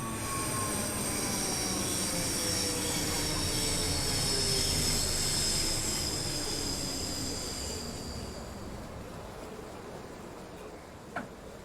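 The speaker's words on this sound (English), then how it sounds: "314-206 heads into the station with a train for Glasgow" Class 314 unit 314-206 rolls into Queen's Park station with a broad, steady rumble and a high whine that slowly fade as it slows, ending with a brief clunk near the close.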